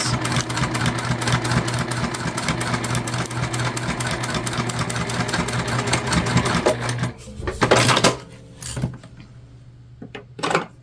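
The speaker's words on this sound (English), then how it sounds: "And then we're going to stitch together. And I backstitch at the beginning and the end." A sewing machine stitches a key fob wallet in a fast, steady run of needle strokes for about seven seconds, then stops and starts again in a few short backstitch bursts, close and loud.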